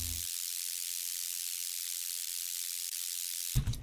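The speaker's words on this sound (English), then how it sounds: "I basically have like a distorted white noise layer." A steady hiss of distorted white noise, a layer from an electronic music remix track, plays alone, with only a brief low thump at the start and end.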